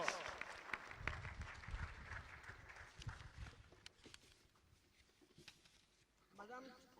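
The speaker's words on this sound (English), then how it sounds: "give the woman a rousing round of applause" Faint audience applause at a campaign launch for district level elections and a constitutional referendum, heard as a steady patter of clapping from a distant hall crowd that fades toward the end.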